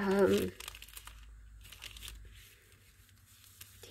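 Old papers handled out of a mail box give a loud, close crinkling burst at the start, then settle into softer, intermittent rustles and crackles.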